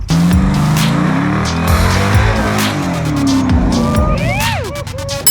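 An off-road rock-crawling rig at Trail Hero 2022 revs its engine hard to climb a rock obstacle. The roar is loud and close, rising and falling in sustained bursts, with a brief higher whine near the end.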